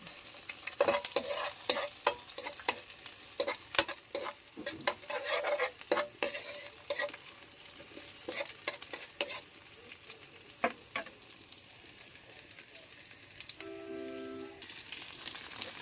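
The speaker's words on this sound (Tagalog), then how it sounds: "nilagay ko na yung kamatis. Yan, pagisa" Tomatoes sautéing for pork adobo, with steady frying sizzle and repeated sharp stirring clacks of a utensil against the pan throughout, close and fairly loud with no talking.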